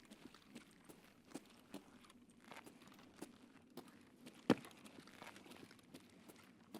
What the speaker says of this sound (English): I'm hearing footsteps here.